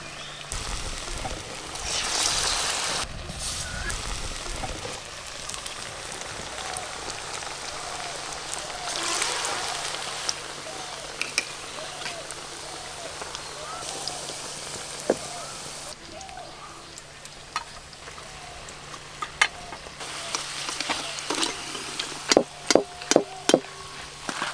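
Potato-stuffed crispy khasta pastries fry in hot oil with a steady, hissing crackle and scattered sharp pops, and a voice talks over it.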